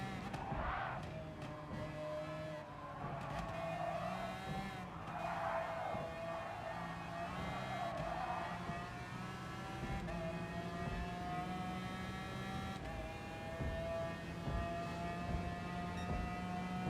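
Race cars in a racing video game, a continuous whine of engines rising and falling in pitch as they accelerate and shift, steady and moderately loud with no talk over it.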